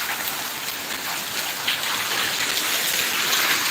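Heavy hail and rain pour down during a February storm over wheat fields, a dense continuous hiss of drops drumming on surfaces, steady and loud throughout with no voices.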